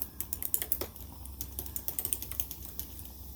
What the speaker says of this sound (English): As I was typing